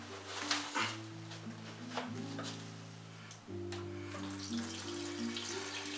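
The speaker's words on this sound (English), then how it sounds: "And I'll just fill up my reservoir now." Water poured from a 2 gallon watering container to fill the reservoir of a five gallon self-watering planter, a steady close splashing and gurgling stream whose pitch shifts as the reservoir fills, with no talk.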